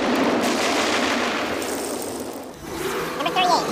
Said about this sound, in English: The highlight is an explosion of shark guts.